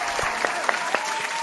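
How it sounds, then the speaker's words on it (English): Audience applause at a live improv comedy show, a short burst of clapping with a few sharper claps standing out, no talk over it. "Oh, big applause."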